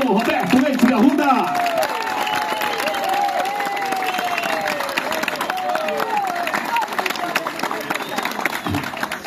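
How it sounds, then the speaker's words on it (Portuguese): A large crowd applauds and cheers steadily throughout for a mayor at the opening of an ecological park, with a voice calling out over the clapping. "Vamos aplaudir o nosso prefeito, Paulo Roberto Leite de Arruda."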